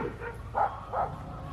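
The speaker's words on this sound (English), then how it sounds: "Dad's chasing off the neighbor dogs that are barking at the kids." Neighbor's guard dogs bark at children on a farm, two short distinct barks at a moderate distance over a steady outdoor background.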